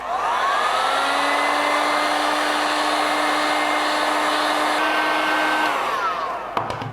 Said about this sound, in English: I'm gonna give the heel area and the heel tip a blast with the heat